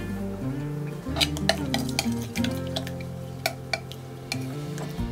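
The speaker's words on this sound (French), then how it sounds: "Et maintenant je peux ajouter la noix de coco." Shredded coconut being added and stirred into a gluten-free granola mix in a bowl, with soft scraping and a few light clinks of a utensil against the bowl, close and steady.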